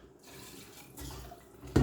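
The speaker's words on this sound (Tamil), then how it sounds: "இப்போ நம்ம இதுக்கு தேவையான அளவு தண்ணி விட்டுருவோம்" Water splashes and pours steadily into a pot of sautéed mutton curry for a moment, ending in a sharper splash, with no talking.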